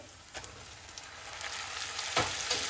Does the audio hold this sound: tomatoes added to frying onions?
yes